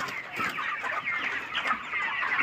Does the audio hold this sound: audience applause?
no